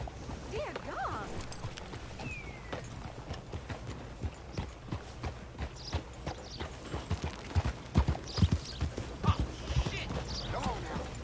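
Horse galloping in the Red Dead Redemption 2 video game, with a steady rapid clip-clop of hooves under game ambience that grows louder toward the end, mixed with brief voices and a faint whinny.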